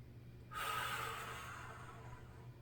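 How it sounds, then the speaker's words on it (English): During a beginner golf core workout's torso twist, one long deep breath rushes in, then trails off slowly under a steady low hum, soft and close. "Breathing deeply."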